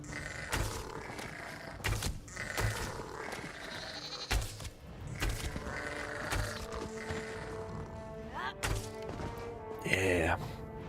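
Goats bleat repeatedly over the soundtrack of the game The Elder Scrolls Online, with thumps and bangs, a person talking now and then, and a rising bleat near the end.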